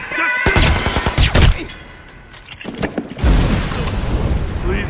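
Gunshots in Hitman Absolution crack out in several loud, close bursts separated by short pauses, with a booming low end and scattered rapid shots.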